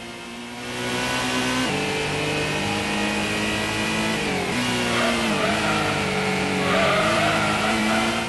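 Race car engine in Gran Turismo on the PS1 revs steadily with shifting harmonic pitch, dipping and climbing as the car loses speed and nearly slides out, loud and continuous with no talk.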